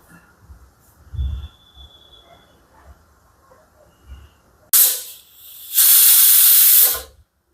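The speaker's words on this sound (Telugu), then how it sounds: "స్టవ్ మీద పెట్టేసేసి హై ఫ్లేమ్ మీద ఒకే ఒక విజిల్ రానివ్వాలండి." A pressure cooker on a stove at high flame, cooking tandoori chicken, sits quietly under faint kitchen noise, then releases two loud, close bursts of hissing steam, the second longer and sustained.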